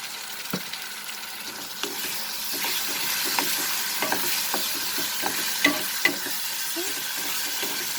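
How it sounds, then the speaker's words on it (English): Chopped tomatoes sizzle in frying masala for soya keema, with a steady hiss under repeated light scraping and stirring strokes, close and fairly loud, with no voices. "So we are going to add the chopped tomatoes."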